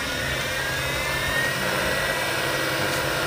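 A Southwestern Industries TRAK 2-axis CNC bed mill spindle runs at the low end of its high range, around 3,000 RPM, giving a steady, even mechanical whir and hum that stays constant throughout with no talking.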